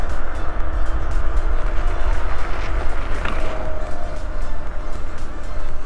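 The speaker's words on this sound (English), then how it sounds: "those are the road tires again" Road tires on an electric scooter roll steadily over pavement, a continuous broad rumble and hiss heard up close from start to finish, with no talk.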